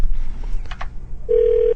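A telephone on a radio show sounds one steady electronic ring tone near the end, loud and close, after a short burst of muffled clatter over a low background hum.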